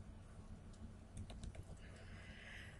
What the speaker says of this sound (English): we'll go and type those into the calculator